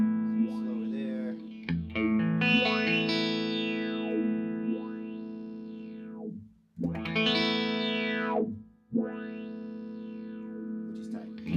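Electric guitar played through a Chase Bliss Audio Condor pedal. Sustained, distorted chords carry wide sweeping filter and flanger-like swoops that rise and fall in slow arcs, with a couple of brief gaps between phrases.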